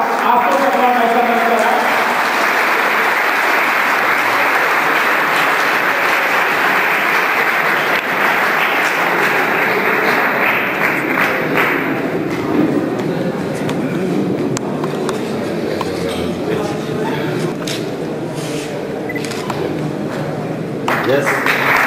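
Sustained applause from an audience at a silver jubilee celebration, a loud, dense wash of clapping that stays steady for about twenty seconds, with voices murmuring underneath.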